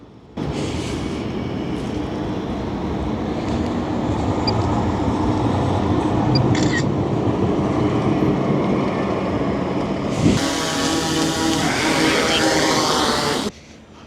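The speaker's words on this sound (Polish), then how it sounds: "O, jest i tramwaj." A tram in Kraków rumbles past nearby with a steady low roar, ending in a brighter screeching hiss of wheels before it fades away.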